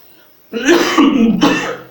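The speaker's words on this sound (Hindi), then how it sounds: "खांसी आ रही है" A teacher in the middle of a maths lesson on a cold day coughs twice, close and harsh: one long rough burst and then a second shorter one, with no other talk.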